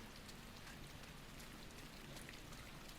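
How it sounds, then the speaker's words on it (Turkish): In the video game Inside, steady rain pours down in a dense, even hiss of drops spattering on surfaces, constant throughout with no voices. "Fena yağmur yağıyor."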